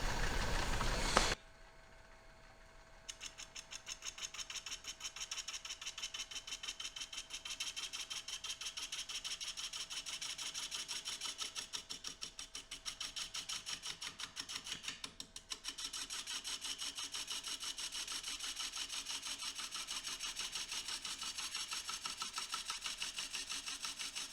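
Steady whirring hum of a wood lathe turning butternut at low spindle speed, with a faint scraping of the tool against the wood, continuous and fairly quiet after a brief start.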